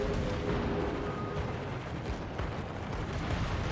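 Naval cannon fire in the warship battle game World of Warships, made of dense, loud, overlapping booming salvos that roll on continuously with no voices.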